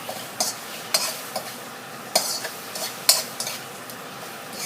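Sweet shrimp cooking in sugar in a pan get stirred with a utensil, giving irregular close scraping and clinking strokes over a soft sizzle.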